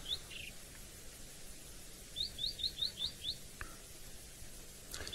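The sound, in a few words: white-browed scrub robin singing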